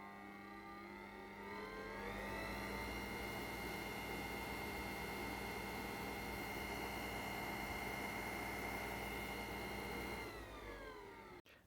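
A Parkside PTSG 140 C2 disc sander spins up, runs at a steady high-pitched whine with a constant motor drone, then winds down; close and fairly quiet, with no talking.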